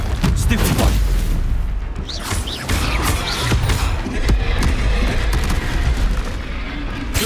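Expulso explosion spell cast in the Hogwarts Legacy video game, a steady barrage of booming blasts and crackling bursts that runs nonstop with a voice calling out over the din.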